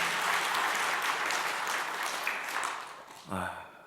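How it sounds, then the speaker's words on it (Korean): Church congregation applauding their senior pastor at a Korean church service, a dense, steady wash of many hands clapping that fades near the end before a brief voice and a short final swell. "앞에서 고생해 주신 우리 담임 목사님께 다시 한번 뜨거운 박수 부탁드리겠습니다."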